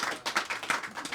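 Audience at a comedy show breaks into applause, a brief, close burst of rapid overlapping hand claps with no voices over it.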